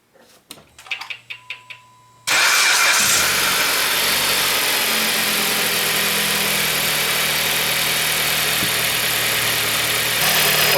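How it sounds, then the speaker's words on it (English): A 2007 Chrysler Sebring with a 2.4L engine, just after a thermostat housing replacement, gives a few soft chimes and clicks, then abruptly fires up and settles into a loud, steady idle that runs uninterrupted. "So now I'm going to start the car so we can verify our repair."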